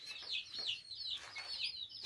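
Young roosters and hens kept on a farm give faint, high, chirpy clucks in quick repeated bursts, with no voices.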